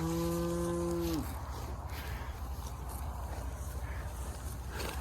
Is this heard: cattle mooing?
yes